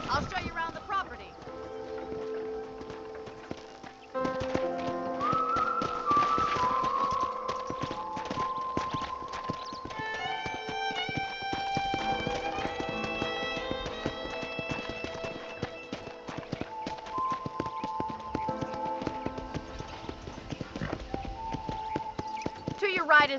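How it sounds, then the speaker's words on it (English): Horse hooves clip-clop in a steady walking rhythm while riding through a western town in the Red Dead Redemption video game, heard alongside background music and a talking voice. "Okay, let's see if you can still ride a horse."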